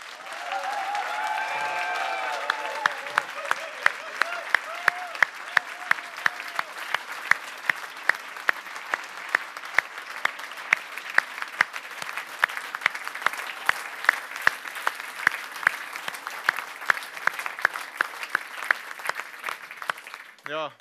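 An audience at a staged musical performance about the 2019 European election bursts into sustained applause. Dense clapping runs for about twenty seconds with a few scattered voices mixed in at the start.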